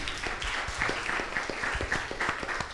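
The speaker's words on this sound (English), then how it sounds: "Give me a round of applause, please." A live audience at a local councillor discussion forum in Portland breaks into a round of applause, dense steady clapping filling the short stretch at moderate volume with no talk over it.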